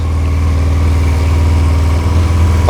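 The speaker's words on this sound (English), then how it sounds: "The motorcycle is running!" A Yamaha XJ 600 motorcycle engine idles steadily and close by, a low, even rumble with a regular throbbing pulse throughout.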